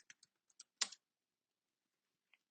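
Computer keyboard typing at a PowerShell prompt, a few soft, sparse key clicks and one firmer keystroke, faint and close in an otherwise quiet room.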